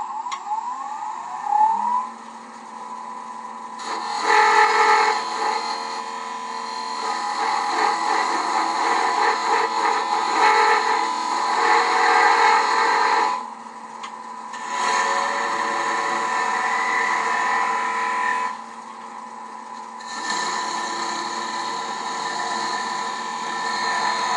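A metal lathe parting tool cuts into a 7/8 inch diameter workpiece, giving a steady loud shrieking, whining tone that runs in long sustained stretches with brief pauses between cuts.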